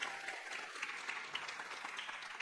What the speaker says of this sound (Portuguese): Palmas para o Felipe.